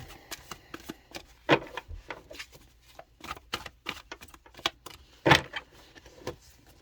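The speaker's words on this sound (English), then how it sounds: "I'm just going to give it a few more shuffles" Cards being shuffled up close: a run of quick papery riffles and soft taps, with two louder bridging snaps standing out, no voices.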